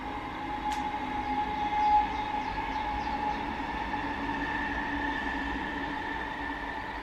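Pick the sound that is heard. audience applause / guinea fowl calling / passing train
passing train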